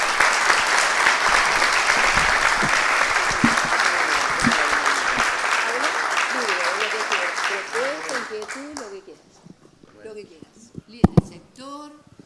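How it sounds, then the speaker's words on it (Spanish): Sustained audience applause welcoming a speaker at an event of the Colegio Profesional Inmobiliario, dense clapping for about eight seconds that thins out into scattered claps, with voices speaking as it dies away. "vamos a darle un fuerte aplauso de bienvenida"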